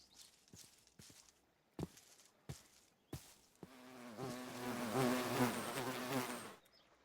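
Bees buzzing at a hive in a GregTech Minecraft modpack: a few soft footstep-like taps first, then a close, loud droning buzz of several insects that swells and fades over a few seconds.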